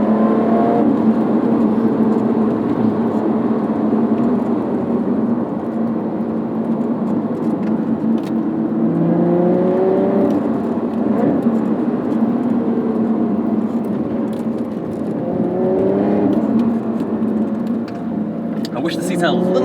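A 2020 Lotus Evora GT's engine drones steadily from inside the cabin while driving, with slight rises in pitch as the throttle changes; someone talks over it throughout.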